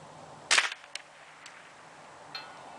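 A Ruger 10/22 .22 LR rifle fires one sharp, loud crack at a 12-inch bullet trap 300 yards away, followed by a few faint, distant ticks and knocks on an outdoor range.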